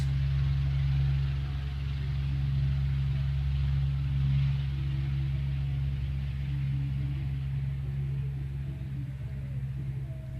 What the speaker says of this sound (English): our 109 is revving up, picking up speed, preparing to pull back on that rudder and take to the skies.